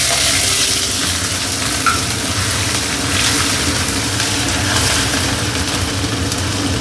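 Ginger garlic paste and curry leaves fry in hot oil in a pan with a steady, loud, continuous sizzle and crackle throughout, with no talk.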